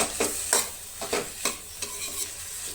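Garlic and ginger are stirred in a frying pan for a paneer gravy. A spoon scrapes the pan in about half a dozen quick, rhythmic strokes over a soft, steady sizzle.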